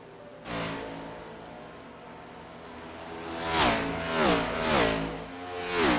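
Race cars in a simulated Hyperdrive Cup Series championship race at Homestead: a steady engine drone is followed by several loud, rising and falling engine passes in quick succession, with no talking.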